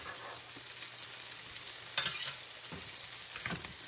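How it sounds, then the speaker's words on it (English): Garlic hits the oil in a 12-inch skillet and fries with a soft, steady sizzle, joined by a few brief stirring scrapes, faint and close with no voices. "let's put this garlic in"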